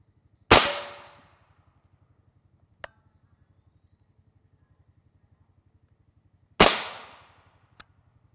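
Two sharp, loud rifle cracks of M855 rounds striking a Level IIIA mini shield plate, several seconds apart, each followed by a brief ringing decay, with faint ticks after each and a steady low insect-like chirping beneath.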